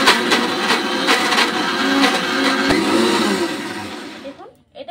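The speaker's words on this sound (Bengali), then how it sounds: "সেট করে নিয়েছি, এরপর ভালো করে ব্লেন্ড করে নিচ্ছি" An electric kitchen blender whirs steadily as it blends a sweet pumpkin laddu mixture, loud and close, with a voice talking over it before the motor cuts off near the end.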